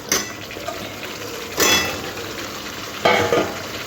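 Pre-fried cauliflower pieces are tipped into a yogurt gravy in a pan, giving three short scraping, clattering bursts over a steady low hiss, with no voices.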